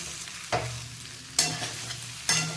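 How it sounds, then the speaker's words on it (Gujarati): Spinach muthiya sizzle steadily in a hot pan over full flame, with three sharp scraping stirs at regular intervals over the frying. "અને આને આપણે ફૂલ તાપે શેકાવા દઈશું"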